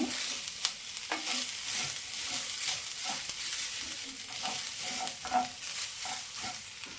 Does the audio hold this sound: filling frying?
yes